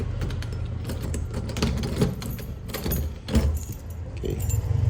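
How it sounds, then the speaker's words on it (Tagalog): Keys jangle and scrape while one is tried in a house door lock, a close, busy metallic rattling with small clicks and bumps throughout, no talking. "Try ko to kung sana gumana itong susi na to."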